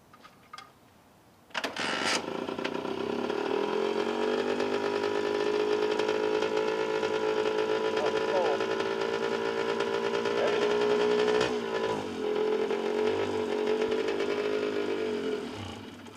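A 1990 Honda NS50F two-stroke engine starting after a quiet moment, then running at a steady buzzing idle with slight revs, loud and close, before dropping back near the end.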